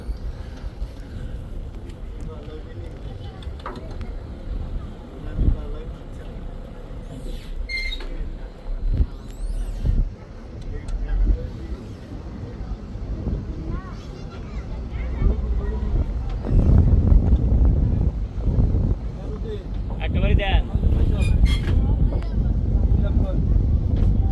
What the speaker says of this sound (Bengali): আর লঞ্চ চলে আসলো চন্দনপুর লঞ্চ ঘাটে।